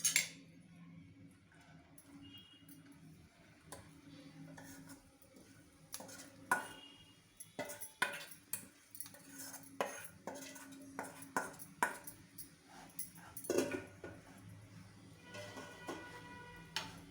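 A utensil stirs flattened rice (poha) into cooled tempering in a pan for dadape pohe, giving scattered light clinks and scrapes in a quiet room.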